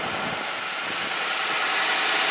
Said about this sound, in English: there is a cold start of this 2011 Ford F150 with a 5-liter V8